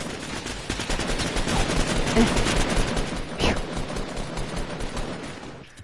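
Rapid automatic gunfire in the video game Fortnite, a dense continuous burst of shots lasting several seconds and slowly tapering off, loud and close.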